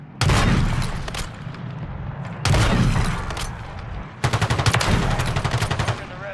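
Gunfire in the video game Call of Duty Modern Warfare 3, loud rattling automatic bursts in three long volleys, the last one sharply rhythmic, close and dense with no pause between them.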